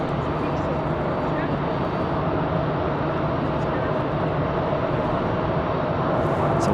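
Alaska Airlines airliner descending to land at Raleigh Durham International on a windy day, a steady broad jet roar mixed with wind rumble, loud and continuous throughout.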